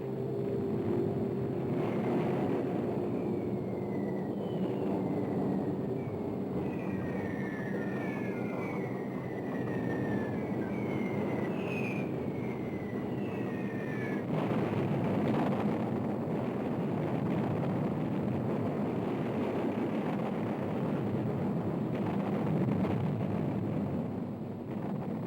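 Waves of German bombers from the 4th Air Fleet, Heinkels and Junkers, pound Stalingrad in August 1942: a dense, steady roar of engines and rumbling blasts with repeated high whistles sliding downward through the din.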